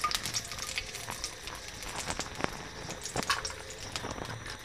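Raisins fry in ghee in a wok, giving a soft, steady sizzle with scattered small pops and crackles at moderate distance and no voices.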